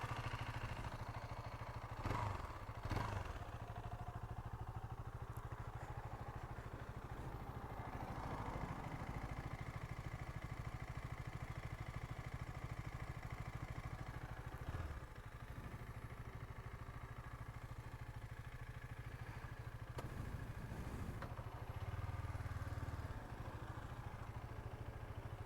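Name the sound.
KTM Duke 250 motorcycle engine making a new odd sound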